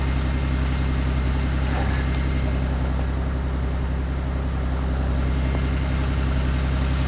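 A Mercedes-Benz MV 460 engine idles after a cold start at about -10°F, a loud steady low-pitched rumble with an even rhythmic chug that holds unchanged and close throughout, with no talking.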